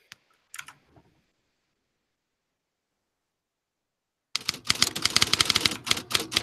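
After a few faint clicks and a long silence, a typewriter clatters in rapid, loud bursts of keystrokes, close and busy.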